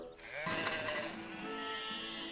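A sheep bleats close by in a long, wavering cry that carries on for a couple of seconds.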